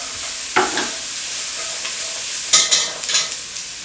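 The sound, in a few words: stirring onions sizzling in a pot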